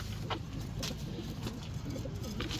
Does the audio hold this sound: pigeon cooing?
yes